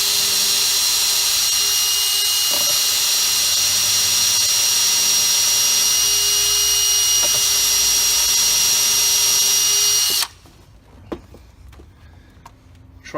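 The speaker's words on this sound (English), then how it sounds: "We want to pre-drill it first." Power drill driving a screw into wood, a loud high-pitched whining drone held steadily for about ten seconds close to the listener, then cutting off abruptly to quiet handling clicks.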